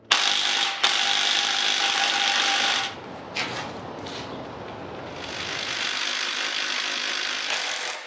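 Bolts being backed out of the timing chain cover on a Honda K24 engine with a ratchet, a steady close mechanical whirring with brief pauses and a few sharp clicks, no talk.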